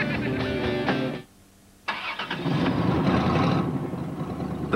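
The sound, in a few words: car engine starting with a faulty muffler, from a TV commercial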